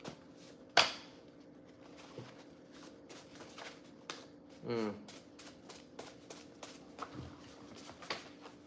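Tarot cards shuffled by hand close up, with a couple of crisp riffling bursts and soft scattered card taps and slides in an otherwise quiet room.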